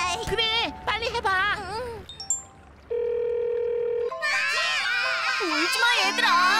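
Several young cartoon children cry and wail loudly in overlapping voices, broken by electronic phone-dialing tones and a sustained beep.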